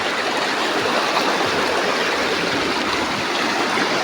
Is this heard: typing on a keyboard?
no